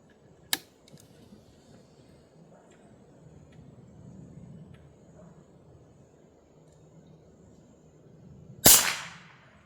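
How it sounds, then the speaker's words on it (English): A powerful A.E.A. Apollo PCP air gun fires, with a sharp crack near the start and a much louder, booming report near the end over quiet background rustle. "I'll do 3 shots of the Apollos."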